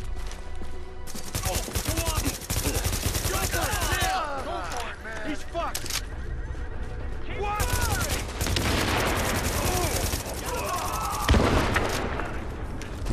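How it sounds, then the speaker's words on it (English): Rapid bursts of automatic gunfire and scattered shots crackle through a close-quarters firefight in The Division video game, dense and continuous with brief lulls, while a voice talks over it. "Yeah, keep firing, man."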